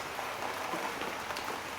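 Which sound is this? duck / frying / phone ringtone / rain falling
rain falling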